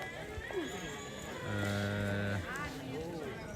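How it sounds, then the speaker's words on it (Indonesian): A water buffalo at a Torajan Rambu Solo' funeral ceremony lets out a long, deep low of about a second amid outdoor crowd chatter and background noise, with a shorter call following. "Kerbau sudah mulai terkumpul di halaman ini"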